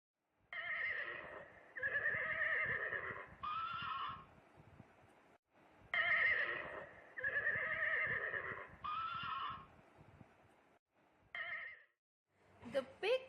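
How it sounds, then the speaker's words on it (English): A horse neighs in repeated whinnies, two long, loud calls in close succession with short breaths between, followed by a brief snort at the end. "The horse makes the sound neigh neigh."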